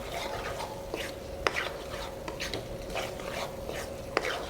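Mutton pieces stirred into masala in a pan for a mutton fry, giving soft, steady scraping and shuffling with a few sharper clinks of a spoon against the pan, under a faint background hum.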